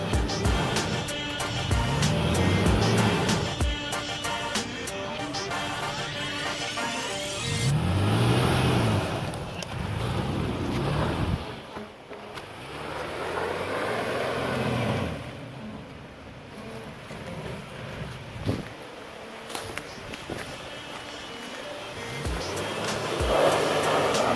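A stock Toyota 4Runner crawls over off-road trails in the Great Smoky Mountains, its engine rising and falling in repeated revs under steady rumbling, with bumps and rattles as the tires work through ruts.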